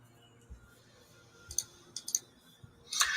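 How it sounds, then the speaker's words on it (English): Loud clacking of a computer keyboard being bashed, with several sharp clicks in scattered bursts rising to a dense flurry at the end, faint room noise between. "The loudest keyboard in the history of keyboards."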